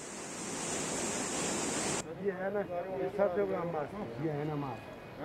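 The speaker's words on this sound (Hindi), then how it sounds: "मार्ग पर पानी बह रहा है, जिससे राहगीरों की मुश्किलें बढ़ गई हैं" Rainwater rushing across a mountain road in Uttarakhand during heavy monsoon rain, a loud broad hiss of flowing water for about two seconds, then cut off as someone speaks over faint background noise.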